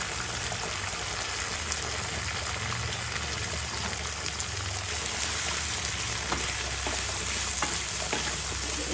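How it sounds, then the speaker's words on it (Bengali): Carrots fry in a pan with cumin, giving a continuous bright sizzle and crackle with faint stirring scrapes throughout. "এটা সিম করবো না, সাইডেই ভাজা হচ্ছে।"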